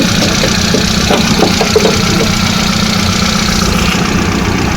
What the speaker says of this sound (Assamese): ইঞ্জিনটো চাই লওক। আপোনাৰ চাউণ্ডটো আপোনাৰ ধুনীয়া হৈ আছে